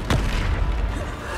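A Bombarda spell going off in the wizarding action game Hogwarts Legacy: one sharp, deep boom near the start, followed by a rumbling tail and scattered combat noise.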